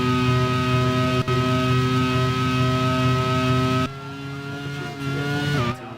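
A 1991-season Formula 1 car in a sim racing game at the Mexican Grand Prix pulls out of a McLaren's slipstream, its engine screaming at high steady revs, then dropping sharply and rising again near the end.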